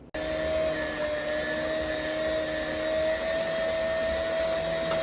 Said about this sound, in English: we're going to start by creaming the butter and the sugars